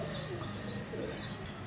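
White Helicopter Porter pigeons coo softly at close range, a few low, rounded calls repeating over a faint background hum.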